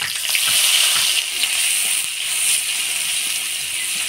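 Black cumin seeds and chopped onion frying in hot oil in a curry pan, giving a steady close sizzle and hiss with faint stirring clinks, no voices.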